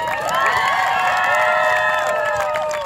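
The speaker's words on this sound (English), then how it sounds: "Let's clap it up one more time for Lucy." A crowd cheers and applauds together for a senior at a field hockey seniors celebration, a dense, steady wash of clapping and shouting that holds at full strength for about three seconds before easing slightly.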